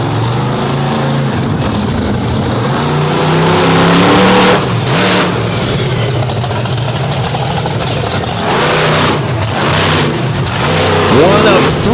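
A Ford pickup's engine roars under heavy load during a pull at a 2023 Illinois motorsport event, a loud, sustained growl with rising revs while an announcer talks over it throughout.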